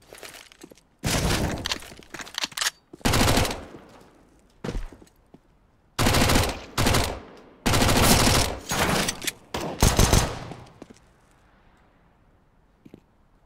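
Rapid bursts of AK rifle fire in a video game, several loud automatic volleys separated by short pauses, with a final quiet stretch.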